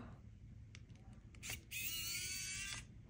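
A small motorized screwdriver whirs for just over a second, taking out a screw while a New 3DS XL handheld is disassembled, after a few faint clicks of handling in a quiet room.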